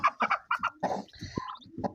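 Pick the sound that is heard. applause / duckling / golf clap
duckling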